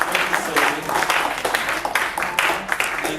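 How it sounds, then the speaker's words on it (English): An audience at a short film presentation event claps in a dense, continuous round of applause, steady and fairly loud throughout with no pauses. "round of applause for them"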